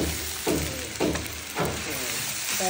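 Coconut paste sizzles and fries steadily in a pan, with a few louder bursts of hiss as it is stirred or moved, close and continuous with no voices.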